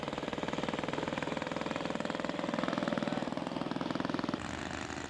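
A YS four-stroke scale model aircraft engine, 124 size, runs steadily at an outdoor scale aircraft show, a buzzing rapid-firing drone that holds constant for several seconds before dipping slightly near the end.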